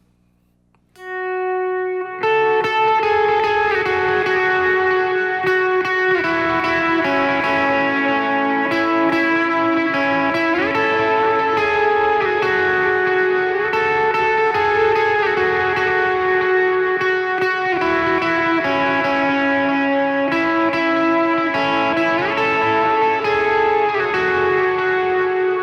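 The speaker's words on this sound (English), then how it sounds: "So with effects and a good bit of drive, that part is going to sound like this." Electric guitar with effects and heavy drive plays a part, a loud, sustained, echoing tone with held and bending notes that swells after a short quiet start and keeps going for more than twenty seconds with no talking.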